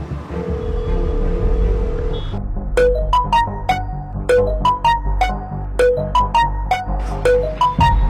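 A phone ringtone plays a bright, repeating chime melody of quick notes, loud and close over a steady low rumble.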